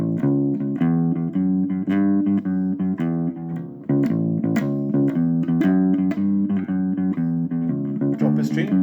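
A bass boogie part A played on piano with both hands rolls along as a steady, driving rhythm of repeated low left-hand patterns under chordal right-hand notes, loud and close, with a brief dip midway.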